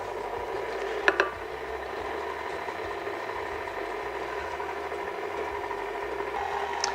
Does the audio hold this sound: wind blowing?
no